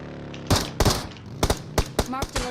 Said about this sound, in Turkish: Sıkıyor sağdan.